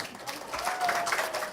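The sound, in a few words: audience applause welcoming professor to stage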